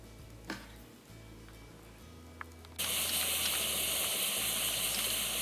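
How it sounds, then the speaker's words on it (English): An electric pressure cooker cooking rice on high pressure vents steam from its float valve: after a few faint clicks, a loud, steady hiss starts suddenly and continues. "As the pressure is building, you will see steam releasing from the float valve."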